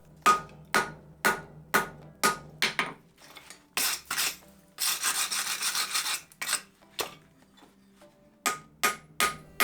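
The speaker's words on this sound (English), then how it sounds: "now I forge the knife into its rough shape" Steady hammer blows ring out in quick rhythmic bursts as a layered herringbone-pattern scouting knife billet is forged into rough shape, with brief pauses and a longer stretch of rasping, scraping metal work between the strikes.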